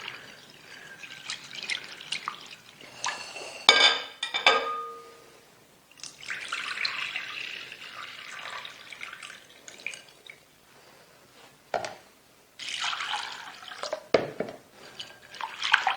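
Soaked chana dal (split chickpeas) being rinsed in water in a home kitchen, with several bursts of sloshing, dripping and trickling water separated by quieter gaps, close and moderately loud.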